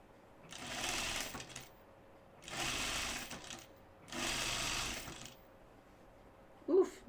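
A sewing machine runs in three steady bursts, stitching a quarter-inch seam on a dress. Each burst lasts about a second and a half with short pauses between, close and clear, and a brief knock comes at the end.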